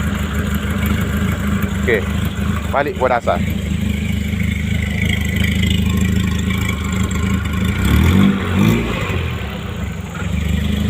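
A fuel-injected car engine runs steadily with a low idle drone, wavering slightly in pitch, while someone speaks briefly over it.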